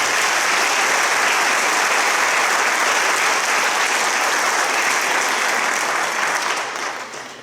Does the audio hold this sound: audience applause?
yes